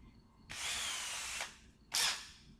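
Power drill running in two bursts, a steady whine of about a second followed after a pause by a shorter, louder spurt, close to the microphone with no talking.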